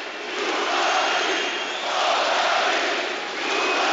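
A boxing arena crowd chants along with boxer Kubrat Pulev, a dense, steady roar from the stands swelling and easing in waves, with no single voice standing out.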